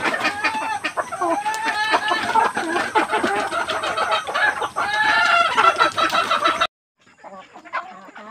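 Native chickens kept in a pen cluck and chatter in a busy, overlapping flock close by, with sustained clucking that cuts out abruptly near the end before resuming faintly.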